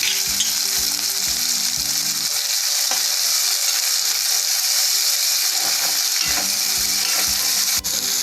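Rice with salt and chili flakes being mixed in a hot frying pan, a loud continuous sizzle with occasional scraping knocks of the spatula, close and steady throughout.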